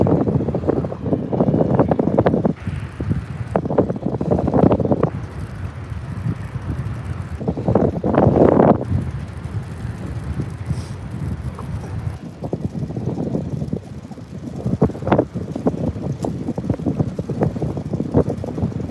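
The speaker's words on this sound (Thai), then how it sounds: "ลมนะคะ ลมหนาวมากเลย" Strong cold wind buffets the microphone while cycling in heavy, rumbling gusts that rise and fall continuously for the whole stretch.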